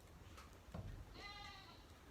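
A goat gives one clear bleat, faint and somewhat distant, toward the end of a quiet barn scene with low background noise.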